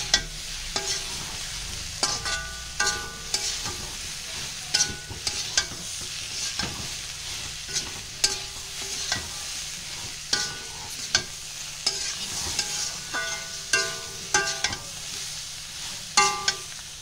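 Spiced pani puri filling frying in a pan, stirred with a steady low sizzle under regular sharp metallic scrapes and clinks of a spoon against the pan, repeating about every second.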